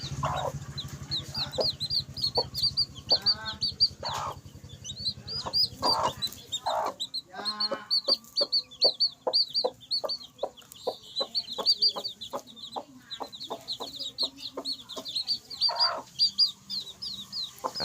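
Chickens cluck repeatedly nearby in short irregular bursts, with other birds chirping busily in the background and a low hum fading out early.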